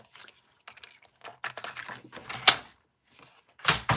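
Paper trimmed to 5 1/4 inches with a paper trimmer while making a card, a string of sharp close clicks and scrapes in short uneven bursts, with quiet gaps between them.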